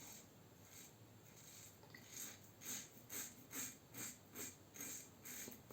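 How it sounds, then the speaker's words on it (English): A safety razor blade cuts whiskers during shaving, close and quiet: a steady series of rhythmic raspy strokes, roughly two per second, scraping against stubble with no voice over them. "You have that frisky sound of whiskers being cut"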